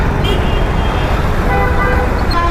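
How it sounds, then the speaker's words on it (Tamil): Dense road traffic in Chennai roars close by, with engine rumble and honking car horns under a steady, loud wash of noise. "இந்த டிராஃபிக் தான் கடுப்பு"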